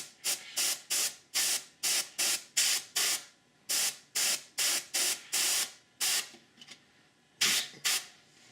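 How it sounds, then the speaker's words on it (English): An airbrush shoots dark paint onto a model's radiator behind the grille in a series of short, sharp hissing bursts separated by brief pauses, close and quiet, with no speech. "the radiator, I want to shoot a little dark color in there just to get behind the grill"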